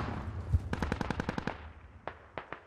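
Close automatic gunfire in the military video game Squad: one rapid burst of about ten evenly spaced shots, a short pause, then three or four sharper single cracks, loud and alone with no voices.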